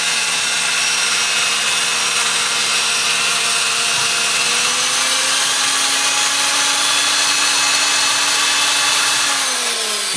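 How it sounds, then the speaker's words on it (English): A die grinder ports E7 460 cylinder heads, a loud steady high-pitched whine that shifts slightly in pitch as the tool bears on the metal, continuous and close with no talking. "Don't try to grind too fast."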